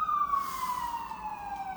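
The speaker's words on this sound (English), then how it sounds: "There's a siren." An emergency siren sounds outdoors in a long, steady wail that slowly falls in pitch, clearly heard and moderately distant.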